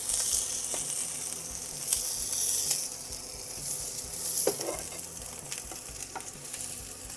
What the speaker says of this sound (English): So let them fry up for about 2 minutes aside.